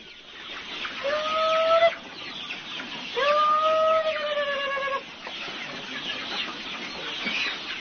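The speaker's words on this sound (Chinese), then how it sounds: "这饲料都拌好了，可这鸡漫山遍野到处都是，怎么把它们叫回来呢？" Yunyang chickens cluck and call across a hillside farm in a few drawn-out, fairly close calls separated by short gaps, with a steady hum of outdoor background.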